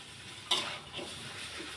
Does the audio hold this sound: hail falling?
no